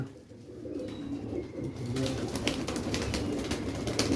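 Pigeons coo in a rooftop loft, a steady low burble of several birds close by, with wing flutters and rustling building up partway through.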